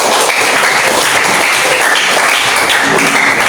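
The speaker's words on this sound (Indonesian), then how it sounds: "Tepuk tangan dulu." A classroom of students clapping hands together, loud, close and continuous with no pauses, a dense crackling burst of many hands.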